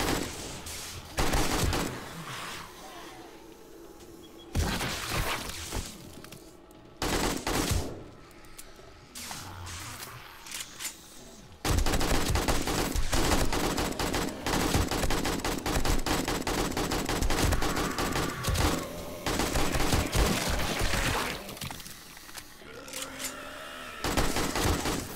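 AK rifle fire rattles through a zombie horde fight in 7 Days to Die, with repeated automatic bursts, brief pauses and thuds between, then a long stretch of dense, continuous shooting.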